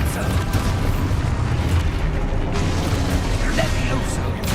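An Exposo explosion spell going off in Hogwarts Legacy, a loud, dense rumbling blast that roars continuously with deep low-end weight and a crackling, debris-like texture across the whole moment.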